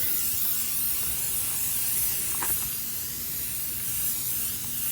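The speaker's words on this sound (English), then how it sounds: "Just spray it all over the bumper." A steady, hissing spray of cleaner onto a Duramax truck's bumper runs continuously for several seconds, loud and close, with no voices.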